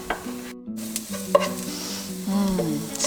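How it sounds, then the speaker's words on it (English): Garlic tossed into golden frying onions in a pan for Iranian noodle stew, a steady close sizzle with stirring scrapes and light clinks, no talking. "once my onions turn golden, I will add the garlic."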